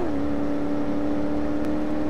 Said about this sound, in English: it's hard to beat some good old American muscle V8